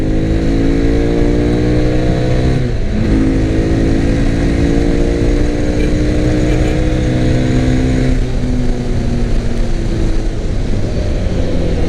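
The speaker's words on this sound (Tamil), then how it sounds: "ஆக்சுவலாக இன்ஜினோட சவுண்ட் வந்து கொஞ்சம் டிஃபர் ஆகுது த்ரோட்டல் பண்ணதுக்கப்புறம்" A Mahindra Mojo 300 motorcycle engine is held under throttle, producing a loud, continuous engine drone with steady rising and falling harmonics and a brief dip in pitch partway through, with no talking.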